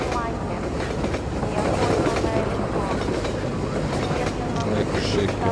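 A train rumbles past in the game Half-Life 2, a steady dense clatter of rail cars that stays loud and continuous throughout, with a voice faintly underneath at times.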